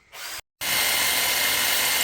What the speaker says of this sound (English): We're having to drill those plastic screws out